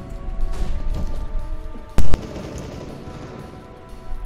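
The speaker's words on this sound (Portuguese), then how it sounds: "Throwing flashbang." A flashbang grenade goes off in CS:GO with a single sharp, loud burst midway, set against gameplay ambience and scattered faint clicks.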